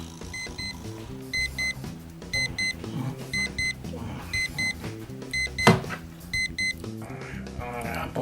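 An alarm clock beeps in short, evenly spaced high-pitched bursts that repeat steadily across several seconds, fairly close, under a busy background with voices.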